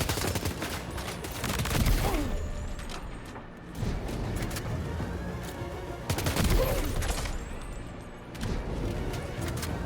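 Video game gunfire from Death Stranding 2: bursts of rapid shots and impacts in two clusters around two and six seconds, with mechanical game effects and whooshing sounds between, fairly loud and close.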